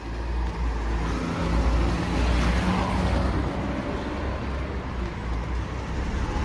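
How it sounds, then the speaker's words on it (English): Cars moving through narrow streets in the northern part of Nicosia, Cyprus: a continuous, fairly loud low engine and road rumble with no speech. "We are in narrow streets. I hear cars coming."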